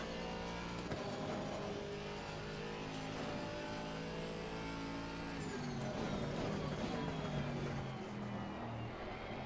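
Audi R8 GT3 EVO race car in the Assetto Corsa Competizione sim, its engine droning loud and steady with a dip and renewed acceleration midway, the high-revving note continuous throughout.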